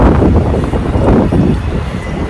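Steady loud wind in Rotterdam buffeting the microphone, a continuous roaring rush with a faint rumbling vehicle underneath.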